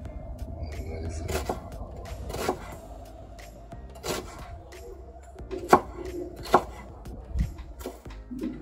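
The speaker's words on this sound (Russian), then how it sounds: "Так, лучок порезали." A knife chops onion outdoors beside a campfire, giving scattered sharp knocks on a board at an uneven pace, close and fairly quiet, with faint background noise between the cuts.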